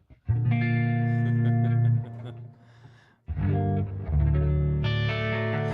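Electric guitar played through a digital amp with distorted, effects-laden tone, sustained chords ringing loudly, a brief drop to quieter notes and a pause, then strong chords resuming; no talk over it.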